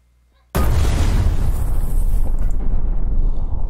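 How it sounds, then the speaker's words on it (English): A huge explosion bursts in after a brief quiet and roars on loud and broadband, powerful enough to knock down a bathroom wall, with the rumbling blast sustained to the end. "The explosion was big enough to knock down the wall of my bathroom."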